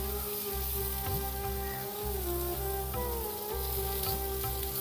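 Sweet potato pieces spread across a pan sizzle and fry steadily, a continuous close crackle with occasional utensil scrapes and no voices.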